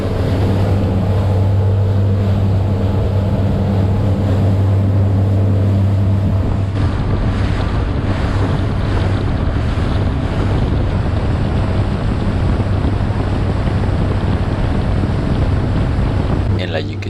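A motorboat cruises at about 35 mph and 41,000 RPM through a full wave chop on a windy day in the Florida Keys. Steady engine drone, hull slap and heavy wind buffeting on the microphone continue throughout.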